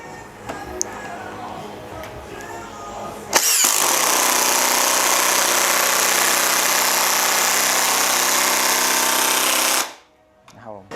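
A loud, steady whine of a Makita 40V TD001G cordless impact driver starts abruptly after some quiet background noise and runs continuously for several seconds before cutting off.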